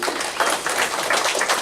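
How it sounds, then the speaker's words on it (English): A dense wash of audience applause, steady and fairly loud, many hands clapping at once. "So, round of applause for you."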